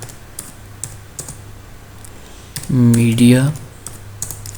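Fast, close clicking of a computer keyboard as a search term is typed, in short bursts spread across the moment, with someone briefly speaking over the keys in the middle.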